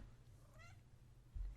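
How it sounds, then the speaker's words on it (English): A pet cat named Spinelli lets out a single short, faint meow near a microphone, followed by a low thump, against quiet background hum. "Of my cat meowing at the microphone."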